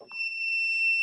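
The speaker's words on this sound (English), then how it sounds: "it beeps." A small handheld device gives a steady, shrill electronic beep when touched to sterling silver metal, rising out of a brief voice and holding at one pitch until it cuts off.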